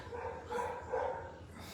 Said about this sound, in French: Il y a un chien qui embête le monde.